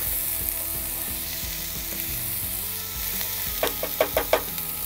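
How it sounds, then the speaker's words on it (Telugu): Chopped green chillies sizzle steadily in hot oil in a pan for a coconut chutney, with a few sharp stirring clinks near the end and no talk. "ఇవి పూర్తిగా వేగిపోక్కర్లేదు, 1 సెకండ్ పాటు వేగితే చాలు."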